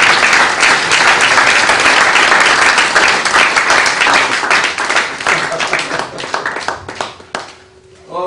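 A church congregation applauding in acclamation of the Lord, loud sustained clapping from many hands that thins out and fades toward the end, with voices mixed in.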